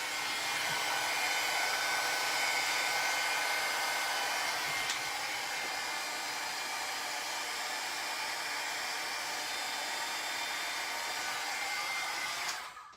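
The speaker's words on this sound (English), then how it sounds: "I'm going to let my heat gun get hot and then emboss." A heat gun warming up for heat embossing blows with a steady, continuous whir, close and alone throughout before cutting off at the end.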